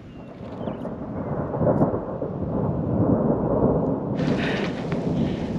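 Heavy rain pours steadily through a thunderstorm at a free BLM campground in Oregon, with a deep rolling rumble of thunder under the broad wash of rainfall, loud and close throughout, and the downpour growing harsher toward the end.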